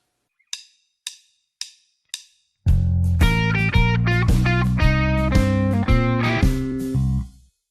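Four soft muted clicks tick in time before a distorted electric guitar launches a B.B. King–style shuffle lick in the third position, loud, close, sustained bent notes with vibrato over several seconds.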